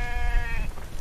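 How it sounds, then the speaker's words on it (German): Sheep in the video game The Infected letting out a single short bleat, loud and close, a wavering nasal cry that cuts off abruptly after about half a second. "Was macht denn das Schaf mit mir?"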